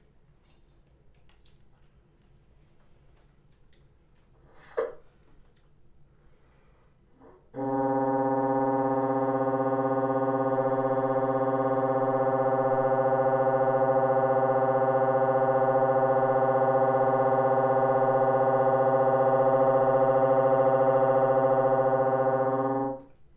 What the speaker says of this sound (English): today I'm going to talk about another one of my very favorite multiphonics